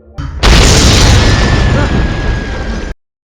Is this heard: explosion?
yes